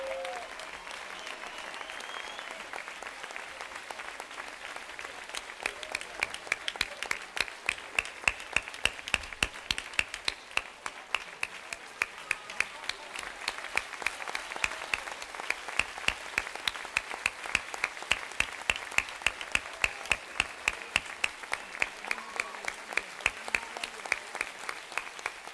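An audience applauds a music band at a stage performance, with sustained, dense clapping that swells in places over about twenty-five seconds, steady and fairly close.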